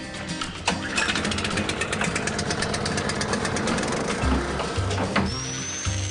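An angle grinder powered by a portable generator cuts through a metal pipe, a dense continuous whine and rattle with steady engine drone underneath, loud and close.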